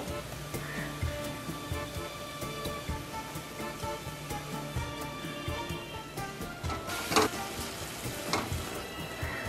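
Fenugreek greens and vegetables fry in a pan with salt, a close, steady sizzle punctuated by scraping stirs and a few sharper clatters, with no voices.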